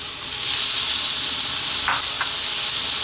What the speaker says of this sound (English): we're now going to add in that 1 tomato